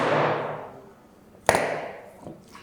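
A hammer dropped onto a wooden floor gives two distinct, close thuds: the first rings out and fades, then a second sharp knock follows with a smaller rebound tap, and no voices are heard.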